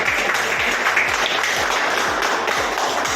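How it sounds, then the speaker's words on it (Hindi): Sustained applause from an audience at a company event, a steady wash of many hands clapping, with faint voices and a low rhythmic background sound underneath. "उसके लिए एक बार तालियां, जोरदार तालियां"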